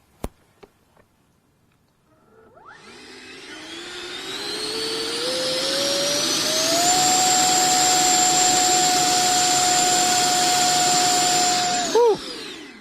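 Electric ducted fan on an RC model jet at an air show, winding up from a few clicks into a loud rising whine that climbs in pitch and holds at a steady high scream before cutting off sharply.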